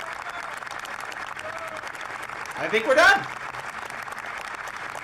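Applause in a room during a Canadian 2022 budget announcement, a short swell of clapping near the middle under steady talk, with people speaking throughout.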